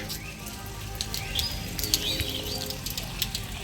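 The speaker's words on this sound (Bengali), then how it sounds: "দেখো কত বৃষ্টি হচ্ছে চারিদিকে" Heavy monsoon rain pours steadily over streets and drips from a roof overhead, a dense, continuous hiss of falling water with a few faint chirps breaking through near the middle.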